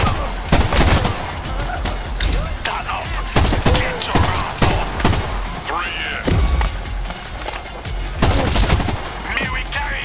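Gunfire from the video game Crime Boss: Rockay City, dense bursts of shots and booms through the whole stretch, loud and close, with voices talking in between.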